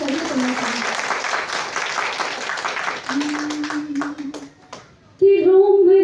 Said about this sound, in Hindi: एक बार आप गीत के आगाज के लिए तालियां बजा के मुझे आदेशित करिए